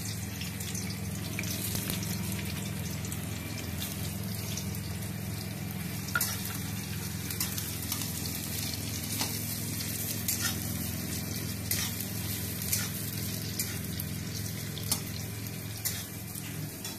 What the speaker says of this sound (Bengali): এবার একটু পেঁয়াজ ভাজবো আলুটা মাখার জন্য